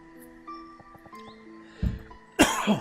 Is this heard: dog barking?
no